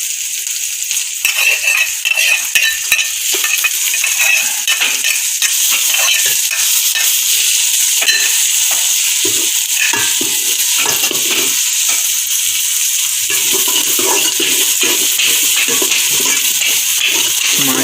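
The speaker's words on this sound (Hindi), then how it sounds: "चम्मच से हिलाएंगे ताकि मिक्स हो जाए अच्छी तरह से" A spoon stirs fish curry in a pan: a continuous bright sizzle, loud and close, with faint scraping and clinking throughout and no voices.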